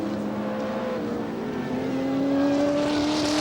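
Touring cars racing at Sandown in 1977, engines droning loud and continuous with rising pitch as the pack accelerates down the back straight, a sustained roar that swells toward the end.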